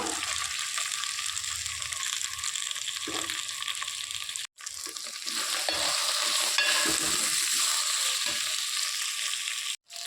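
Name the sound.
okra frying in oil with ground masala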